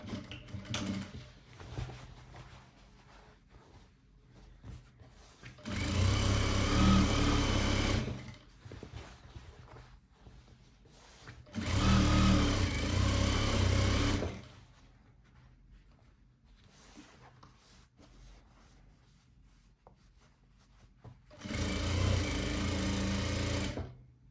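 A sewing machine stitches fabric binding on a pillowcase in three loud sustained bursts, close by, with quieter pauses of handling between runs.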